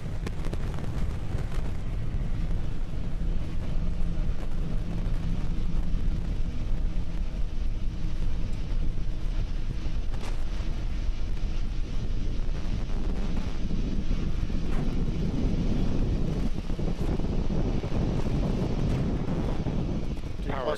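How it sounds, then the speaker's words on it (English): A SpaceX Falcon 9 first stage in flight, its nine Merlin 1D engines giving a continuous deep, rumbling roar with wind-buffeted crackle, heard distantly and steady throughout, with a voice speaking over it. "We're currently throttling down the 9 Merlin 1D engines on the first stage"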